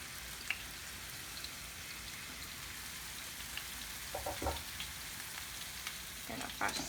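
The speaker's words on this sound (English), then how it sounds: "I'm going to add the rice and we're going to brown it." Half a cup of rinsed brown rice browning in a pan, giving a soft, steady sizzle and crackle with a few light taps of stirring, quiet and close, with no talking.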